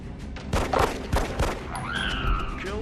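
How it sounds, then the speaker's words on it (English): Pistol fire in the strategy game X-COM Enemy Within: several sharp close gunshots in quick succession, followed by a rising synthetic whine from the game. "save on ammo. Use your pistol."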